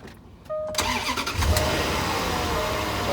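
A 2011 Land Rover LR4 engine cranks briefly and catches, then settles into a steady, close idle hum with a short rev as it starts.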